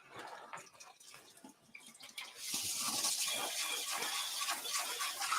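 Tap water runs into a kitchen sink while hands are rinsed during chimichanga cooking, starting with scattered drips and splashes, then becoming a steady, close rush of flowing water.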